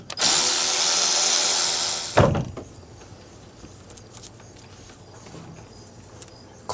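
A power tool spins bolts off a Ford 7.3L IDI turbo, sounding as a loud, steady whir for about two seconds that stops abruptly. Faint clinks and light handling noises follow.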